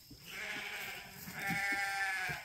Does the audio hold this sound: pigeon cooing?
no